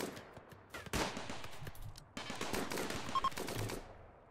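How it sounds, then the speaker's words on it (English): Turret and machine gun fire in the colony sim Rimworld, dense overlapping bursts of automatic shots with sharp broadband cracks, loud and close, continuing for several seconds with brief pauses between volleys. "Split them up, essentially, so that the turrets aren't firing at Brown."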